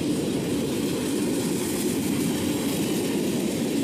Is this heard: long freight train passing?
yes